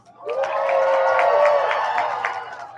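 Cheering and clapping from the crowd at a Michigan men's soccer match as a child's costume is judged, a sustained swell of whoops and applause lasting a few seconds, with no voices speaking over it.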